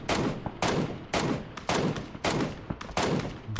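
Mk14 rifle firing in a PUBG pro scrim match, six loud, sharp shots spaced roughly half a second apart, each cracking and then ringing briefly before the next.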